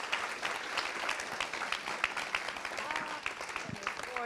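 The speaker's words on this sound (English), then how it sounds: "And please an applause to all the speakers today." Audience clapping for the day's speakers at an IMDIS conference, a steady round of applause with a few voices audible beneath it.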